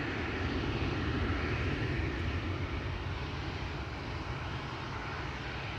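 KLM airliner departing Amsterdam Schiphol Airport, a broad, steady engine roar from a distance that fades slightly toward the end, with no talk.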